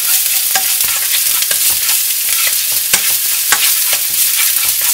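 Chopped shallots stir-fried in about a tablespoon of oil in a wok for a five-spice taro cake, a steady close sizzle broken by repeated scraping strokes of the spatula, with no voices.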